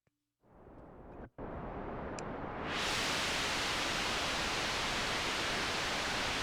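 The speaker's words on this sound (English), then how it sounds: "in addition to the LFOs, we have a noise generator." An analog synthesizer noise generator produces a steady wash of broadband hiss that starts abruptly, drops out for a split second, then brightens and grows louder, holding constant to the end.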